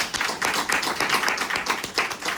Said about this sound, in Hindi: जबरदस्त ताली बजाइए इसके लिए